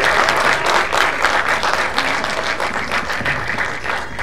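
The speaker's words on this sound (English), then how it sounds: "Please, a big round of applause and cheers, guys." An audience at a lamp-lighting event opening with actor Diganth breaks into loud, continuous applause and cheering. The steady clapping holds without pause for the full few seconds.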